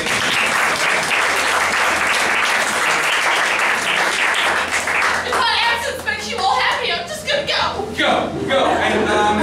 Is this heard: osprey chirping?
no